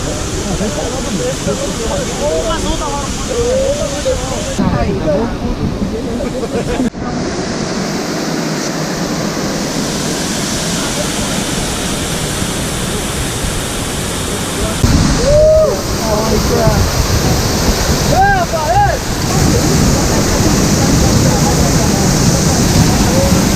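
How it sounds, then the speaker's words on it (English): A waterfall crashes onto a tour boat off the Marau Peninsula in Brazil, a loud, continuous roar of pouring water that swells later on, with people talking and calling out under the rush. "So we're gonna bring the boat right up to the waterfall."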